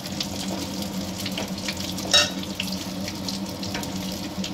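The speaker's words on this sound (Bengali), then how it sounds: "এবার ঘুটে জল দিয়ে দেবো। প্রয়োজন মতন জল দিয়ে দেবো" Water is poured into a pot of boiled mung dal cooked with a fish head, a steady splashing pour that runs for the full stretch with a brief brighter splash midway.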